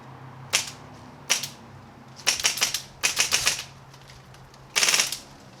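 HPA-powered airsoft guns firing BBs, heard as short sharp bursts of rapid clicking shots: two single cracks followed by three quick multi-shot volleys, close and fairly loud with no talk.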